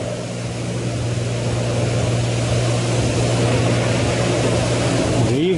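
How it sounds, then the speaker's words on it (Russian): A small tractor brought from Japan is being washed, heard as a loud, steady, unbroken drone with a low humming engine tone throughout. "Намываю тракторок."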